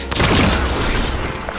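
A grenade explodes in Halo 5 campaign combat with a loud, dense, crackling boom and debris rumble that fills a short burst of under two seconds.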